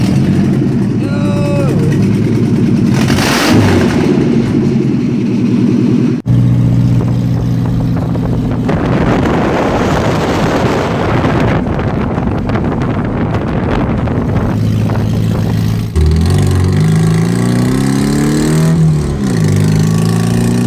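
A car driven out on a test drive after a mod, its engine droning and revving under heavy wind buffeting on the microphone, with a voice talking over parts of it.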